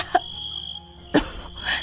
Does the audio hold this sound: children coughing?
yes